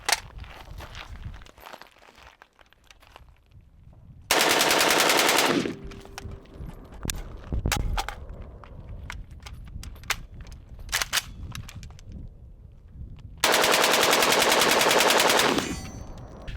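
A suppressed AK-102-style rifle chambered in 5.56 with a 12.5-inch barrel fires two loud, sustained strings of rapid shots, separated by quieter handling noises and clicks.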